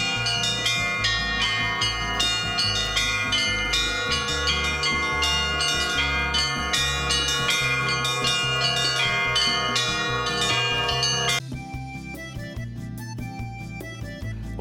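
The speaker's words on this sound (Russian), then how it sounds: "Услышать волшебный колокольный звон." Church bells ring in a dense, sustained peal of many overlapping strikes, loud and continuous, thinning to fewer lingering tones near the end; heard at a traditional Karelian island village.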